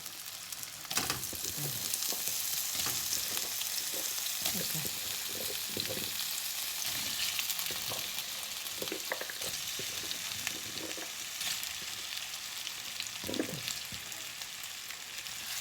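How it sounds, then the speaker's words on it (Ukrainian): Food frying in a pan gives a continuous loud hiss and crackle close up, with occasional scrapes and knocks of stirring spread through it. "Хай вона нам обжарюється."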